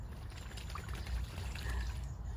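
A dog drinks water near a river, with a steady wet trickling and splashing close by, carrying on without pause and without talk.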